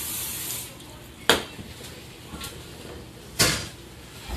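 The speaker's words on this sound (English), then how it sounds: "I'm just going to spray it down with a little non-stick spray" Short bursts of hissing non-stick cooking spray from an aerosol can, close by, coating a rice pot, with a longer hiss at the start and two quick sprays after.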